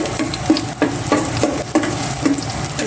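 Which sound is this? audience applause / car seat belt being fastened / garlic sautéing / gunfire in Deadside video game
garlic sautéing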